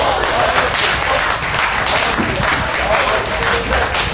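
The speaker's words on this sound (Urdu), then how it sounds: "صاحب صدر کے لیے بہت زیادہ تالیاں" Sustained audience applause at a live Urdu/Punjabi poetry recital at a mela in Manchester, steady dense clapping filling the hall at full loudness throughout.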